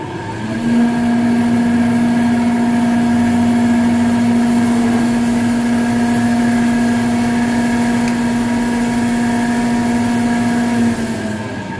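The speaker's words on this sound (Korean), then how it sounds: "이렇게 건상기 모터 앞쪽에서 소음이 지금 나고 있습니다." A steady, loud hoist motor hum with a strong low drone and faint whine from worn bearings in an old Dongyang CV-40 elevator traction machine, running continuously as the car descends.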